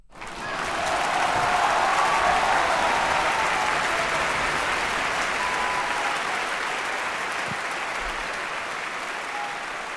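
Sustained applause from a crowd, loud and dense clapping that holds steady throughout.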